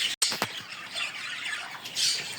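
Birds at a bird zoo squawk and screech in harsh, high bursts, close and moderately loud, with a steady chorus of chatter around them.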